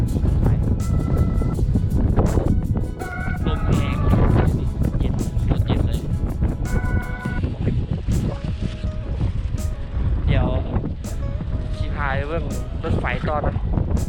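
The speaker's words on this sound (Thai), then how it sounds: "ลมแรงเย็นเลย" Strong, cold wind in Vladivostok near a railway station in the city centre, a steady roar of gusts buffeting the microphone throughout while someone talks over it.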